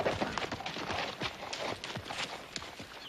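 Horse hooves clip-clop as a rider arrives in a Western setting, a run of irregular, fairly close hoof strikes on hard ground heard plainly without talking.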